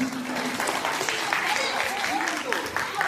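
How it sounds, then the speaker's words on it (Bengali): Audience at a cultural award ceremony giving state champions steady, dense applause that fills the room throughout, with voices faintly mixed in. "এদের জন্য একটু জোরে হাততালি দেবেন প্লিজ।"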